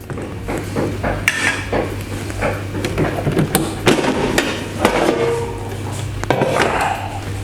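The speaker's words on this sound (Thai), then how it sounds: "ทีนี้เราจะเอาใส่ในตะแกรงหม้อทอดไร้น้ำมันนะครับ" Metal clinks and clatters as chicken wings are set down on an air fryer's wire rack, a series of irregular light knocks and scrapes close by.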